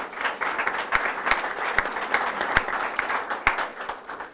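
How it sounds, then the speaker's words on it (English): Round of applause from a breakfast audience of legislative guests, steady dense clapping with a few sharp louder claps standing out, moderately distant and continuous throughout. "Can we give them a round of applause, please?"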